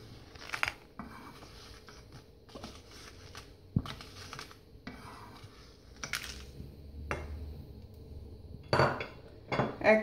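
Fried dried red chilies being scooped out of a kadai with a metal utensil, a series of sharp clinks and scrapes against the pan, close and irregular.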